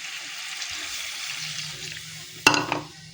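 Water poured into a pan of Odisha-style potato curry with drumstick, a sudden splashing sizzle near the end after a quiet low simmer.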